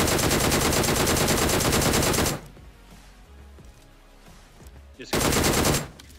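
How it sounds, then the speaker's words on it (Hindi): Rapid automatic gunfire in the battle-royale game BGMI, two loud dense bursts separated by a quieter stretch of faint ambient game sound. "इधर से हमें फायरिंग के साउंड आए।"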